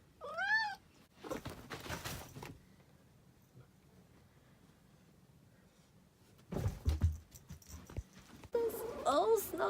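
A house cat meows several times, a short rising call near the start and more cries toward the end, with a person speaking softly in between and some rustling handling noise.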